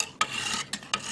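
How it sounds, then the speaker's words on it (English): A hunting knife rasps against a medium sharpening stone in repeated close strokes, a gritty scraping broken by three sharp onsets of new passes. "Medium stone is not going to take off as much metal as that big, the coarse stone did."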